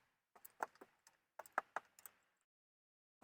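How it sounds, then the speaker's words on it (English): A 10mm socket wrench works the terminal nut on the battery of a 2006 Toyota Sienna. It gives a few close, sharp ratcheting clicks in two short bursts separated by a pause, then one last click, in a quiet room. "use a 10mm socket and wrench to remove them"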